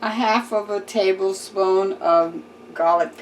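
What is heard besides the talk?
No everyday noises stand out.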